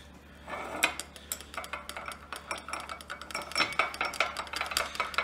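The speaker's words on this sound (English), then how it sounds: "we're going to stir that up" A mixture of 20 ml gasoline and 60 ml oil stirred in a container, quick repeated scraping clinks of a utensil against the sides, fairly close and steady in rhythm.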